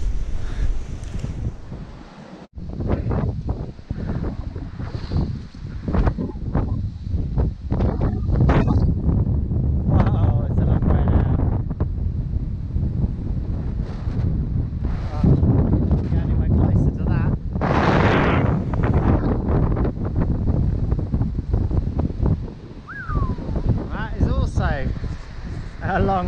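Strong wind buffets the microphone on a seaside clifftop, a loud continuous roar with gusty bursts and rumbling thumps throughout, while a person talks intermittently over it.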